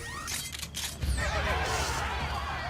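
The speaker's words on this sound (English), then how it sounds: "Damn it, I don't want to hit that horse." A horse in the video game Assassin's Creed Brotherhood gives a loud, shrill neigh that rises and falls, followed by hoof clatter and game noise, with someone talking faintly amid the action.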